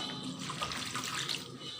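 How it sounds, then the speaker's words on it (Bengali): Water poured into a cooking pot over salted, turmeric-seasoned jackfruit seeds, a brief steady splashing stream, quiet and close with no voices. "দেওয়ার পর এখানে একটু পানি দেবো,"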